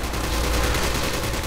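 AK-47 fire in a Call of Duty zombies map, a dense, continuous burst of rapid automatic shots, loud and close, with no talk over it.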